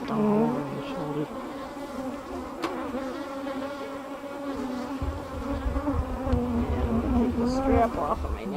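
Honey bees drone steadily around a hive, their loud buzzing close and continuous with pitch shifting as they circle near a beekeeper, while faint voices speak beneath it.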